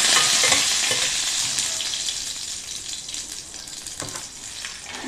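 Dried chillies and curry leaves fry in hot oil, crackling and sizzling loudly and steadily close up, with faint stirring sounds and no speech.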